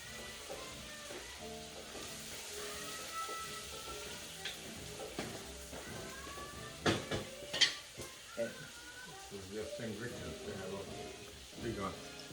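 Sauce poured into shrimp cooking in a pan sets off steady sizzling and frying, with stirring, scraping and clinks of utensils against the pan, while a person talks over the cooking.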